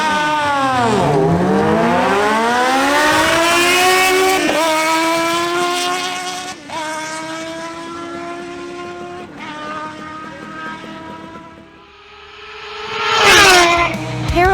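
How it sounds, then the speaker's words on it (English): Kawasaki ZH2 and Ninja Z1000SX motorcycles launch in a drag race, engines screaming through rising revs and sharp gear changes, loud and close, then fading before another rev swells near the end. "Harold Rodolo on his Kawasaki ZH2 faces off again against Martin Correa on his Kawasaki Ninja Z1000SX."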